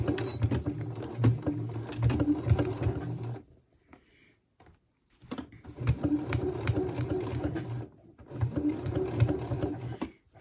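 A sewing machine with a stitch length of 4 stitches a coat collar seam, a close, steady mechanical whir in two long runs separated by a few seconds of near silence.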